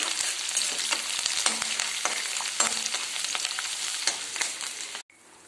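Green chillies roast in a hot pan until reddish, giving a steady close sizzle with scattered crackles and pops, then cutting off abruptly near the end.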